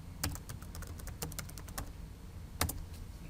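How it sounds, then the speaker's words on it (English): Keystrokes on a computer keyboard as a password is typed, a steady run of soft close clicks with a short pause and a final pair of taps, over a faint room hum. "Type in the password."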